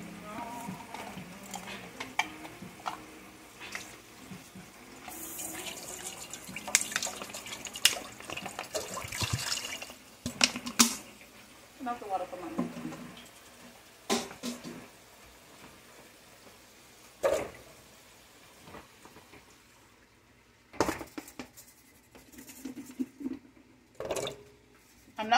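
Water runs and trickles into a pan set up for boiling carrots, butternut squash and potato, with splashing and dribbling bursts that stop and restart over about 25 seconds, fairly close and moderately loud, with no talking.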